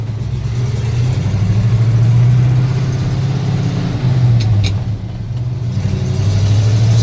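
A 1966 International Harvester 1300A one-ton pickup truck accelerating in second gear, its mid-pitched engine droning steadily and loudly throughout, with the pitch rising and dipping slightly as it pulls, up close and with no talking.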